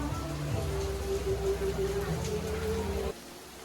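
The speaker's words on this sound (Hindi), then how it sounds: "again it started raining" Steady rain falls in Singapore, a dense, even hiss of drops on surfaces that runs on without pause and drops off abruptly near the end, with faint background voices and a low tonal hum.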